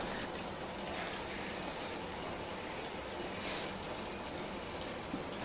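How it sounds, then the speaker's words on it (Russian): Warm tap water runs steadily over hands being washed with liquid soap at a sink before surgery, a constant hissing gush with no voices. "Руки моют жидким мылом, теплой водой под краном"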